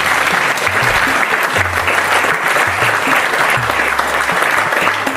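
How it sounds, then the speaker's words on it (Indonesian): A crowd applauds steadily and loudly the whole way through, a dense wash of clapping with a faint low hum beneath it. "Tepuk tangan dulu"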